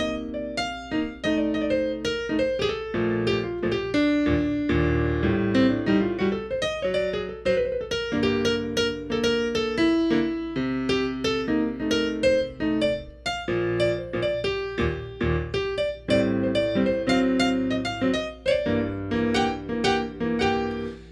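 Solo jazz piano improvising at a steady swing, chords in the left hand under flowing single-note lines, clear and close with no voices.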